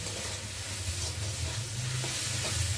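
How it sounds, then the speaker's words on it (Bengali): Spice paste for chicken curry frying in oil gives off a dense, continuous sizzle close up, with steady stirring and scraping underneath. "মশলাটা একটু ভালো ভালো করে ভেজে নেবে, যাতে মশলার যে একটা কাঁচা গন্ধ থাকে সেটা চলে যাবে।"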